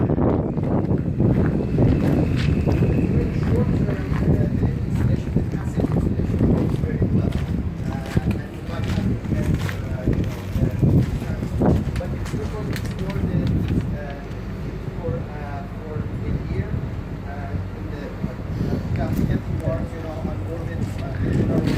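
Strong wind buffets the microphone steadily, a loud rushing roar throughout, while a person talks intermittently over it beside NASA's Crawler Transporter CT-2.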